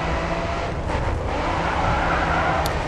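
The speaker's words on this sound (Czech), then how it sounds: "A teď už to chytlo trošku jiný zvuk," A racing car engine in the video game GRID 2 roars steadily at close range, its pitch shifting slightly, with a faint tire squeal near the end.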